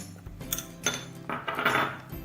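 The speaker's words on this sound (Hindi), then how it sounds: "मिक्स करेंगे अच्छी तरह से ताकि गुठलियां ना बने। साथ साथ चम्मच चलाते जाएंगे।" A metal spoon stirs and scrapes in a pot as milk powder is mixed into bread kheer, a few soft clinks and scrapes, quiet and close.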